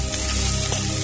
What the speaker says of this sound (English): What exactly is that sizzling away on the barbecue?